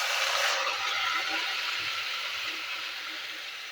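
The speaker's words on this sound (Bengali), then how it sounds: "এবার এই পুরো মাখা মাছ আমি তেলের মধ্যে দিয়ে দিচ্ছি" Marinated rohu fish pieces sizzling in hot oil, a steady broad hiss of frying that stays even and fairly loud throughout, with no talking.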